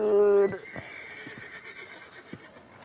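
A horse in a video game gives a loud, shrill neigh that cuts off abruptly, followed by faint scattered hoof clops and background game noise.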